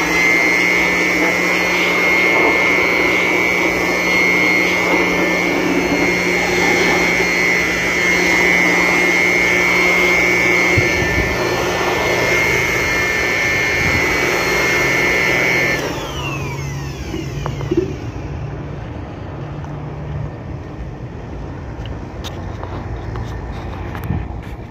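A blower cleans a compressor in Saudi Arabia, giving a loud, steady, high-pitched whine and rushing airflow that runs continuously for about sixteen seconds, then drops to a quieter, lower whirr with scattered clatter.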